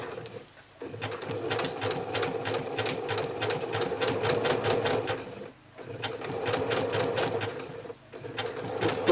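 A sewing machine stitches a heart-shaped fabric appliqué with a fast, even mechanical chatter, stopping briefly between runs as the fabric is turned, close and clear.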